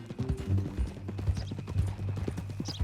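Horse hooves clip-clop in Red Dead Redemption 2, a close, steady walking rhythm of distinct hoof strikes on the ground, with low tonal ambience underneath.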